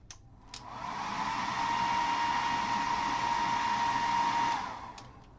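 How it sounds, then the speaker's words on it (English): A handheld blow dryer drying a pigment dust wash runs as a steady, close, breathy whoosh for about three seconds, then switches off, with no talking. "Generally not a good idea to hit this with a blow dryer"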